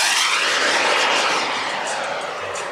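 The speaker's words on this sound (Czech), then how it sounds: "Model Super Scorpion." Super Scorpion model jet aircraft flying overhead at an airshow at Czech Heaven airfield near Ivančice, a steady broadband roar with a faint whine, loud and gradually easing as it passes, with no voices.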